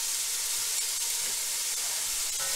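Chopped onions and garlic sizzle in about half a tablespoon of hot oil in a pan, making a steady, close, bright hiss throughout with no talking.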